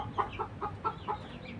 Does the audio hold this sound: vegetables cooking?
no